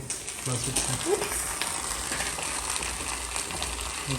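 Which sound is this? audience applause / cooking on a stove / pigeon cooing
cooking on a stove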